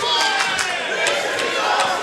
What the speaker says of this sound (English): Listen to the crowd saying, this is awesome